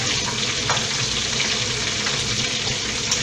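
Lobster tails fry in a pan, giving a steady, loud, dense sizzle and crackle that runs unbroken without any talk.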